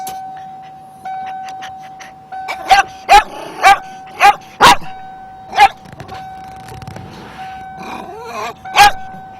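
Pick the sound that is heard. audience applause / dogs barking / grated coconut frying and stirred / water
dogs barking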